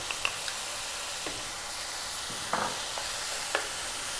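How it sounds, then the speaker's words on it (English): Tomato paste sizzles in a pan, seasoned ground beef and red bean filling for stuffed eggplants, giving a soft, even hiss with a few brief clicks and taps from stirring, and no voices. "Now that tomato paste, in that goes."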